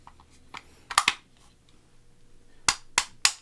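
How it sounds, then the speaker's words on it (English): Metal parts of a roll cage fitted to a DJI Pocket 3 case knock together in sharp clacks: a few light taps, a quick double clack, then three loud evenly spaced bangs, close up with no talking. "it sounds scary that there's metal banging, but that's the metal right here banging onto itself"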